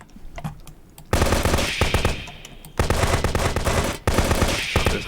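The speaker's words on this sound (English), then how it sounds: "There's a bunch of bullets going off." Gunfire in a vehicle shooter video game, dense rapid machine-gun bursts in three long loud volleys with brief gaps between, preceded by a quieter stretch of scattered shots.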